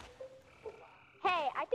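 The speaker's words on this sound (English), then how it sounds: "I can hear a frog in the background." A frog croaks in the video game Sea of Thieves, a short rising croak sounding close and fairly loud after a near-quiet stretch with faint tones.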